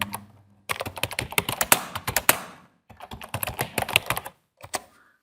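Fast, uneven bursts of typing on a computer keyboard, close and crisp, with clustered key clicks separated by short pauses and a final few taps.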